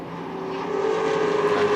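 Maserati GT4 race cars at the Red Bull Ring drone past in a steady engine roar with a sustained tonal whine, building slightly in loudness over a brief stretch.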